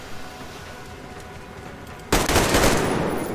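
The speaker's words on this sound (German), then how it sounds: "Ich habe ihn unter Beschuss!" Gunfire in the video game Metro Exodus: after a quiet stretch, a loud burst of rapid automatic shots erupts and continues to the end.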